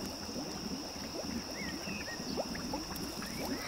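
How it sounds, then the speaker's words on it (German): Bubbling and gurgling of a moor in an audio drama, a steady watery burble with scattered small pops, moderately faint and continuous, no voices. "ich höre keine Stimme, nur blubbern"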